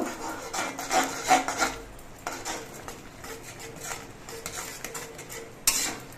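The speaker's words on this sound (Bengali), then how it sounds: "গুঁড়োটা ছিটিয়ে দিতে হবে আর নাড়তে হবে" Dry rice flour sprinkled into grated coconut is stirred in a pan, giving a steady scraping and rubbing of a spoon against the metal with occasional light knocks.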